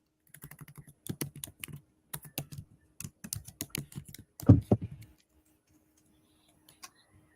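Someone types on a computer keyboard in short bursts of close, crisp clicks, a louder flurry near the end before the keys fall quiet with a few stray taps.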